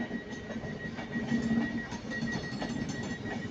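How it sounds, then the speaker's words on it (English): An Avanti West Coast Class 390, unit 390 112, sits at Manchester Piccadilly after terminating from London Euston, giving a steady low rumble and hum under the station's ambient noise, with a sustained tonal whine and no talk. "So that's 390 112 with a terminating Avanti West Coast service from London Euston."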